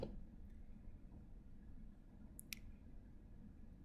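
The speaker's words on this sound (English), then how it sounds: "You're going to double click on that." Two quick mouse clicks, the second sharper, sound close and alone over a faint steady hum as an Excel file is opened on a computer.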